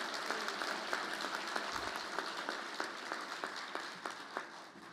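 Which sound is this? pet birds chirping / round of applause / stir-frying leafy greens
round of applause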